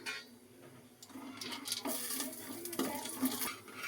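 Cashews and almonds frying in two teaspoons of ghee in a pan, a soft crackle and sizzle with occasional light clinks and stirring scrapes, quiet and close.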